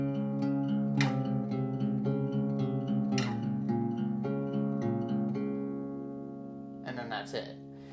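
Strummed acoustic guitar chords from a country song ring out in steady rhythm up close, the final chord clipped off partway so it fades early, followed by a brief scrape of string noise.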